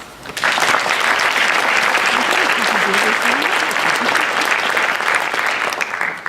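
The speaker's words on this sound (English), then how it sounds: "Please join me in thanking them with a round of applause" Audience applause at a 2018 high school National Honor Society induction ceremony, loud sustained clapping that starts abruptly, carries on evenly for several seconds, with a voice faintly audible beneath it.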